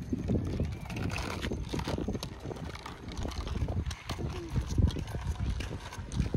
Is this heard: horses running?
yes